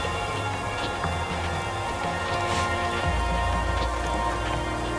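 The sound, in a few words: rain in the video game Keeper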